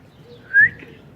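A small yellow baby bird gives one short, clear chirp in a quiet room, the rest mostly low background hum.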